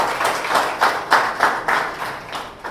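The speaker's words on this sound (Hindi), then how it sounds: "हम उनका तालियों से स्वागत करेंगे।" A church congregation at a Sunday evening prayer service claps to welcome visiting guests, steady rhythmic claps in unison at an even beat, fairly close and continuous throughout.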